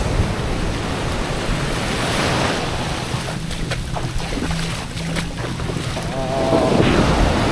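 Strong waves breaking on a white-sand beach lined with resorts in Cateel, Davao Oriental, giving a loud, continuous wash of surf with wind noise across the microphone and no talking.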